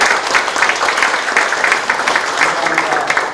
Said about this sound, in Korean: 여러분들, 마을 함께 해주시면 박수 한번 해주십시오